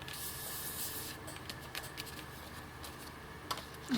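Water is spritzed onto an ink-dabbed card: a soft hissing spray at the start, then faint, sparse taps and light handling noises at close range.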